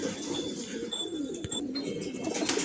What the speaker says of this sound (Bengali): লালপট্টির লাল দানা কবুতর